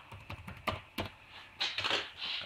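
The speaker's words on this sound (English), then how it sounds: "And just type in the old password." Password typed on a computer keyboard: a quick run of sharp key clicks, near and fairly loud, with no talk.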